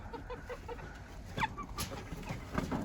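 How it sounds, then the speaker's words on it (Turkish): Hens cluck in short bursts around a farmyard coop in Ankara, with a sharper rooster call rising briefly midway against a steady background hum. "Güzel ispenç şapkalı horoz var."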